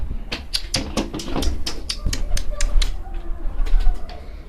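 Pigeons coo and rustle close by in a loft, with sharp repeated clicks and taps and someone speaking in between.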